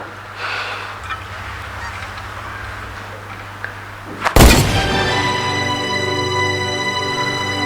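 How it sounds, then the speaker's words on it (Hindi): A single loud, sharp gunshot cracks out close by amid outdoor ambience where a person was hunting animals, followed by a long ringing tail. "ये फायर किसने किया है?"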